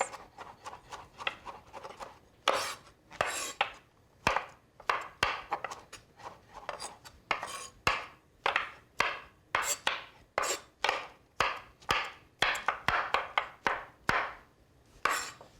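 A knife chopping mushrooms on a cutting board, a long series of sharp, close taps in uneven rhythmic clusters, some strokes quicker and some spaced out, with light scraping between.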